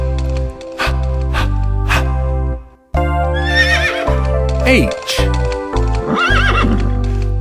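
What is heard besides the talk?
horse neighing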